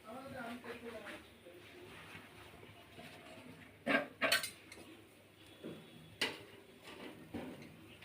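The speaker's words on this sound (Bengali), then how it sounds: "এখন আমি ঢাকনা খুললাম, একটা একটা করে বের করবো।" A container lid is opened and items are lifted out one by one, giving a few sharp clinking, rattling bursts against quiet room tone, close and moderately loud, while a person talks softly between them.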